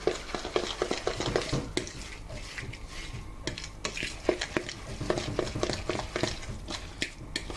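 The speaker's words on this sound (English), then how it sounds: "Mix it all together." A tuna patty mixture is stirred and mashed in a bowl, making dense, irregular wet squelches and scraping strokes with occasional utensil knocks, close and busy throughout, no talking.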